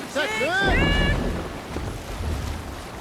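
A sailing ship at sea in Assassin's Creed Valhalla, heard as a low, steady rumble of wind and water after a brief voice at the start.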